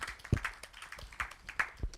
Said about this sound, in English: So applause for the speaker first.